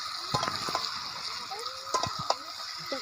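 Chopped tomato goes into a frying chicken liver, gizzard and head skin masala, producing soft wet splatters and stirring clatter over a gentle sizzle, with a person talking through it.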